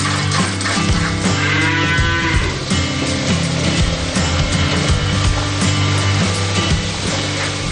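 Friesian Holstein dairy cows on a farm moo loudly and steadily, several drawn-out calls overlapping under a constant dense background rumble, with no voices.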